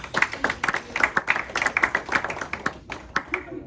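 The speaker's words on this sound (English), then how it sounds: "Thank you guys, round of applause." A class of students in a university course gives a short round of applause, with separate hand claps in an uneven rhythm close by in a quiet room, tapering off near the end.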